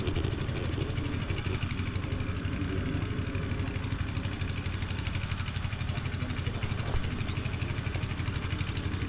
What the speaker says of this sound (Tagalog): Sagli akong grass cutter eh.